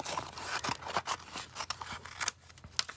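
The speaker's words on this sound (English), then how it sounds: "I'm just going to trim this paper" Scissors snip through paper in quick, irregular crisp cuts, close up and alone, as a sheet is trimmed down for a packing tape image transfer.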